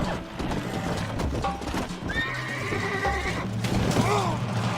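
Within the Red Dead Redemption video game, a horse whinnies twice amid clip-clopping hooves, with game voices and background action sounds mixed in.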